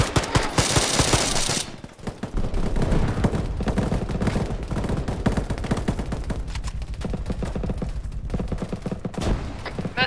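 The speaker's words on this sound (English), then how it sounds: "we're getting a lot of fire" Heavy bursts of gunfire crackle almost nonstop through a training exercise, dense overlapping shots and automatic fire filling the whole stretch, loud and close, with only a brief lull early on.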